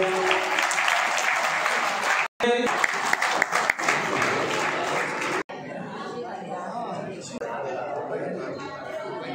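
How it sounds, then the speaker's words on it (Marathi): Crowd applause at a lucky-draw prize giving during a cycle pilgrimage from Narayangaon to Shirdi: dense, sustained clapping mixed with chatter, with a brief break near the start and a slightly thinner stretch later. "टाळ्या वाजवा"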